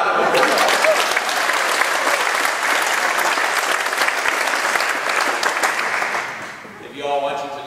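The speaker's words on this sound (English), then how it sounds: "that's why we just want to give him another round of applause" An audience at a charity sing-along concert gives a loud, sustained round of applause after an organist's performance, a dense roar of many hands that fades out near the end.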